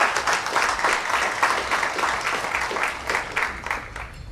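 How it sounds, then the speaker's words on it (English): Audience applause for a ship captain at an award ceremony in Guyana, a steady wash of many hands clapping at moderate volume for a few seconds. "So I would like you to give a round of applause to that."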